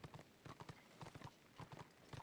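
Galloping horse hooves in the fantasy game Return of Reckoning, quick paired clip-clop beats running close and steady.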